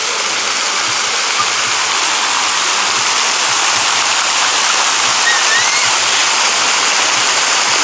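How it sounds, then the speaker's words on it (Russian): Steady, dense rush of splashing fountain water fills the whole stretch, broadband and constant, with no voices on top. "Вода? Фонтаны?"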